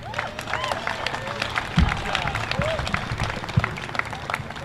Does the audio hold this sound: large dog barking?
no